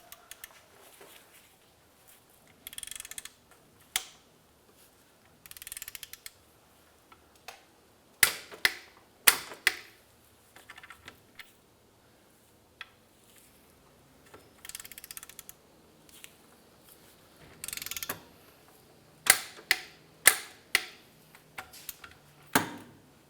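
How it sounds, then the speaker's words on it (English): A torque wrench tightens rear differential damper mount bolts on a 2003-2011 Honda Element to 47 foot-pounds, giving sharp, close clicks that come singly and in quick clusters between quiet stretches, with no talking. "So we're going to torque these two bolts down to 47 foot-pounds."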